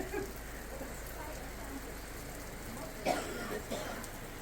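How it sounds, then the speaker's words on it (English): Steady rain falls in the Cairngorms of Scotland, a continuous soft patter with a brief louder splash near the end, heard close by under a faint background hiss. "it's raining again."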